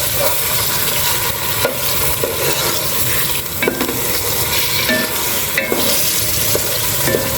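Half a kilo of ground pork stirred while it fries in a pan, with a loud, dense sizzle throughout and repeated scraping and clinking of the spatula against the pan.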